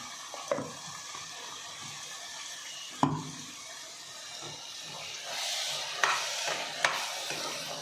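Masala for tomato bath sizzles in oil in a pan while being stirred, a steady frying hiss with a few sharp scrapes and knocks of the spoon, and no voices.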